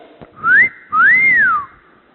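A woman whistles a little tune, two clear, loud notes nearby, the first short and the second a longer sliding rise and fall, alone without talk.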